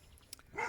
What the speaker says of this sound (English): the dog's having a good bark